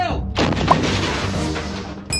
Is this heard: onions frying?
no